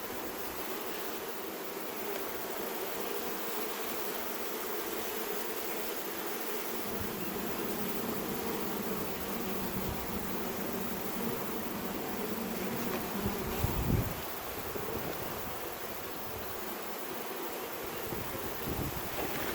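A swarm of honey bees hums steadily nearby during a swarm catch, a continuous buzzing drone with light wind rumble against the microphone and a brief knock near the end.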